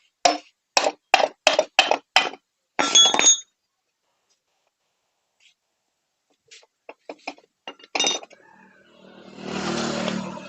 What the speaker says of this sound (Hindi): तो इस तरीके से जो है हमने इंजन को ओपन कर दिया, यानी चेम्बर को